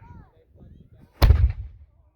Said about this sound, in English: we've got 2 guns to discharge